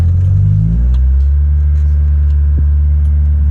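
A barn-find Ford Escort Mk2 engine idles with a deep, steady rumble, close and loud, a brief rev near the start and then an even low drone.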